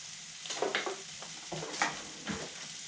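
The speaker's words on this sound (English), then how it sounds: "fry the fish for a few minutes on both sides" Fish fries in a pan for an ancient Roman recipe, giving a steady sizzling hiss with a few soft scraping and stirring bumps. The sound is close, moderately quiet and heard alone, without talk.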